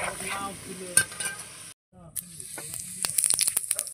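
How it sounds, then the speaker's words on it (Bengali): Potato pieces fry in hot oil in a village-style chicken dish, giving a steady sizzle broken by a brief silence, then returning with bursts of crackling and quick stirring scrapes near the end. "দেখো আলুগুলো ভেজে নিচ্ছি।"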